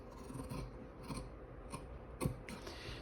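Scissors cut through recycled denim fabric in several distinct crunchy snips, close and quiet, with no voices.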